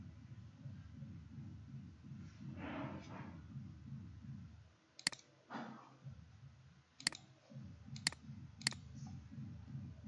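A computer mouse gives several sharp, close clicks, some spaced about a second apart, over a low muffled background rumble with faint movement noise and no speech.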